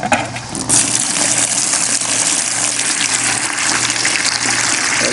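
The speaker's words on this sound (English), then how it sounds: "coming out of the sump with my new sump pump in the crawl space and the dehumidifier." Water gushes steadily from the discharge of a new sump pump in a crawl space, a loud continuous rushing with a faint motor hum underneath.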